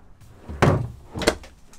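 A small Dometic drawer fridge aboard a Corsair 880 trimaran slides and bumps shut, two short dull thuds about half a second apart, close by and with no voices.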